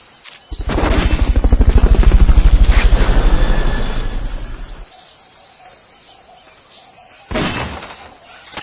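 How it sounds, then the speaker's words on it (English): Fulton recovery helicopter from the video game Metal Gear Solid Peace Walker: a loud, rhythmic rotor thrum with rushing whoosh builds and fades over about four seconds, then a brief second burst near the end. "Fulton recovery helicopter is complete."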